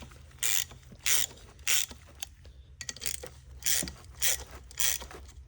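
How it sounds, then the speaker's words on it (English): Ratcheting 9/16 wrench tightening a bolt on the water pump of a Caterpillar 3406 engine, giving six loud, evenly spaced bursts of close metallic clicking with a short pause midway and no talk. "my wrench here, 9/16. I should be able to just screw it down"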